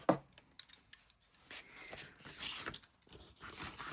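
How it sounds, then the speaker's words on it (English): Several short snipping and rustling cuts as scissors trim around the edge of a paper file folder, close by and moderately quiet, spread irregularly across a few seconds with no talking. "Just going to cut around this edge."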